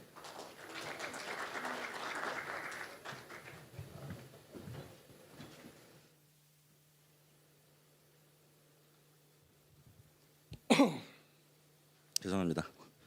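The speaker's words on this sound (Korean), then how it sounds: "박수로 환영해 주시기 바랍니다." An audience applauds to welcome a presenter at a drone technology conference session. Broad, steady clapping lasts about six seconds and then fades. A low hum follows, broken by two sharp, loud bumps from microphone handling.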